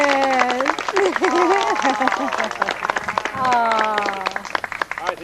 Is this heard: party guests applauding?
yes